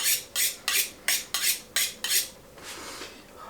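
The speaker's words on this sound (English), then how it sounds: "we're going to cut into it now" A sharp knife sawing through smoked duck breast makes about seven crisp, rasping strokes in a steady rhythm, close and distinct, before trailing into a softer, longer drag.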